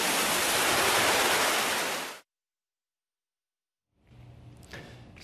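Loud wind-driven sea waves roar as dense broadband rushing noise, then cut to silence, followed by fainter distant ambience with low rumbling.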